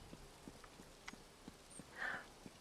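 Horse hooves in The Elder Scrolls Online clopping at a steady walking pace, soft and fairly distant, with a brief breathy snort or sigh partway through.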